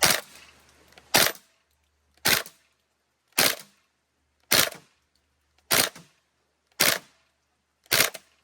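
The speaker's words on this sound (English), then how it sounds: "play with it in burst fire, because I feel like that's what it'll be coolest" An ACETECH Predator MK3 tracer unit fitted to an airsoft gun fires in burst mode in a darkened room: seven sharp, loud cracks spaced about a second apart, each cutting off quickly into near silence.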